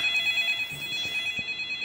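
A video game telephone rings steadily for about two seconds, a bright electronic trill repeating in a continuous pattern, with a few faint thuds underneath.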